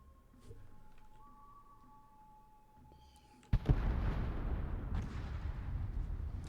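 Naval gunfire in World of Warships erupts as a sudden heavy boom after a quiet stretch, followed by a sustained roar of rumbling blasts and debris noise.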